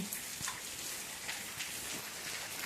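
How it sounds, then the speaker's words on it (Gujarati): Light rain falls in a soft, steady patter with scattered distinct drops striking a surface, faint and continuous with no voices. "તો વરસાદ પણ ચાલુ છે"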